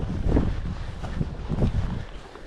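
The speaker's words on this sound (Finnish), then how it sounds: "Nyt on vakaa viileä tuuli." A steady cool wind in Urho Kekkonen National Park, Lapland, sends brief low gusts thudding across the microphone in a few soft, uneven pulses.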